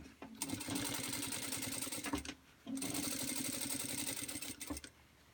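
A sewing machine stitches across bag straps in two long runs of rapid, steady needle chatter, each ending with a brief pause and a soft clunk of handling.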